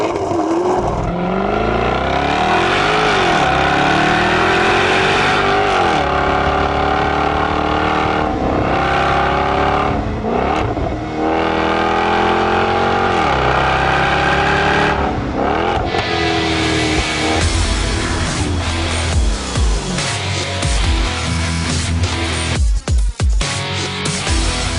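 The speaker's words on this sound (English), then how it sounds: "Under the XKRS's massive hood, you'll find a 5-litre supercharged V8 boasting 542 brake horsepower and 501 pound-per-foot of torque." A 2014 Jaguar XKR-S with a 5-litre supercharged V8 roars loud and close, rising and falling through repeated revs and gear changes over about 25 seconds, with no talking.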